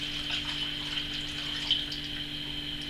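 Liquid pours steadily into a Still Spirits table-top distiller, a soft continuous trickling wash with no talk over it, faint and even throughout.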